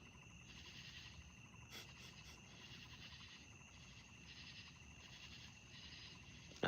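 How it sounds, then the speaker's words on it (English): Crickets chirp at night in a faint, steady high trill that continues throughout, with a low background murmur and a few brief clicks. "I hear crickets."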